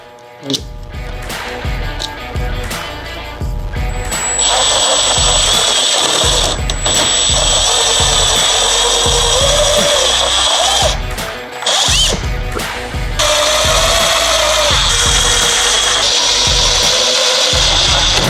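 A power drill drives screws to fix a front lip onto the bumper of an Audi B9.5 A4/S4. It gives a loud, continuous mechanical whirring with a ratcheting buzz that barely lets up, and there are only slight dips in level.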